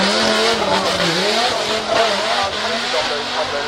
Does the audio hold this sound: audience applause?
no